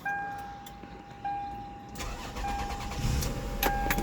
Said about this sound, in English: All right, so let's start this thing up.